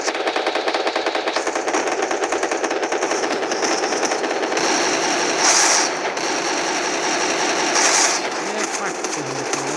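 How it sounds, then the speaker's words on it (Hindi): Rapid bursts of automatic gunfire from the video game Free Fire rattle continuously, with a couple of brighter, louder volleys partway through, no talking. "किसने मुझ पे गोलियां बरसा दी इस कदर?"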